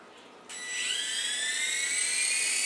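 An Air Hog toy helicopter's small electric rotor starts up abruptly, then spins up into a loud, steady, high-pitched whine that holds close by without talk.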